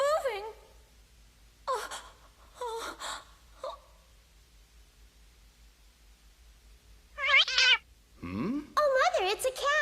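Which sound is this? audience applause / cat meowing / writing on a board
cat meowing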